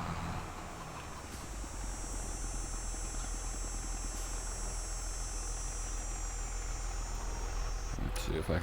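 A tractor engine idles in a farming simulation game, giving a steady low drone with a faint buzzing whine throughout and a brief click near the end.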